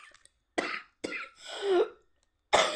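Several close coughs from one person in quick succession, harsh and chesty, with a longer rasping throat-clearing cough in the middle and a final cough cut off at the end.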